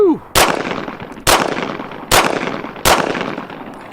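Four loud, sharp pistol shots ring out at an outdoor shooting range from a handgun fitted with a budget red dot sight. They are evenly spaced about a second apart, each with a short echoing tail.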